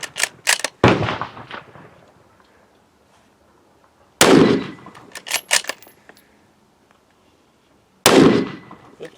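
Three loud, sharp gunshots from a Mossberg MVP Predator bolt-action rifle on a firing line, spaced about four seconds apart, each with a brief echoing tail and faint handling noise between shots.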